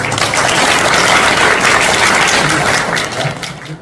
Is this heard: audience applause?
yes